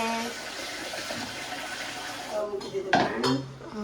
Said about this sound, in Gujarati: અને મમ્મી અહીંયા ભાતને વોશ કરે છે આ ત્રીજી વખત